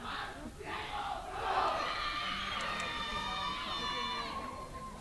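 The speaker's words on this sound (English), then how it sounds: "You can hear the UAE crowd celebrating the girls' teams." A UAE crowd cheers and shouts in celebration at an under-18 girls' rugby sevens final, a sustained, fairly distant roar of many voices that holds steady throughout.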